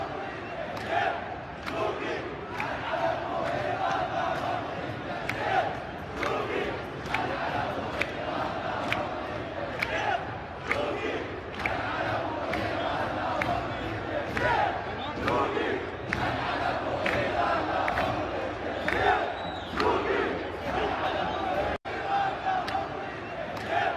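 A large stadium crowd at a football match chants and roars together in dense, rhythmic bursts that stay loud and continuous, with voices massed together throughout.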